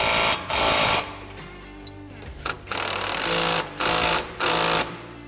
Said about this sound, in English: Then we're just going to fully tighten our hardware.